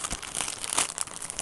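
Plastic shipping package from a small Macy's clothing order being ripped open by hand, giving a close, continuous burst of crinkling and tearing plastic with irregular crackles throughout and no talk.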